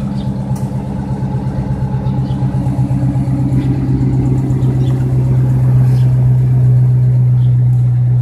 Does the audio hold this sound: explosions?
no